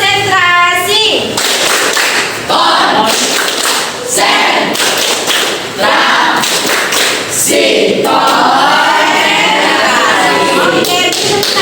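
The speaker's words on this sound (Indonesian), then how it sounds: "Ice breakingnya tepuk konsentrasi." A school class plays a rhythmic concentration clapping game as an icebreaker, bursts of loud, close hand claps in patterned groups alternating with children's voices and spoken call-outs.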